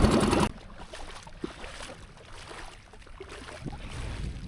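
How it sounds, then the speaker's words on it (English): A skiff is dragged by hand through shallow coastal water on a windy winter day while wade fishing for speckled trout, giving soft sloshing and scraping under steady wind after a brief loud gust at the start. "that wind has picked up and I'm back to dragging the skiff again"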